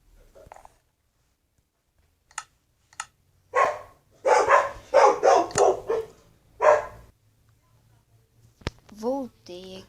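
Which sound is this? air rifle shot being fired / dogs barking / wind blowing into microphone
dogs barking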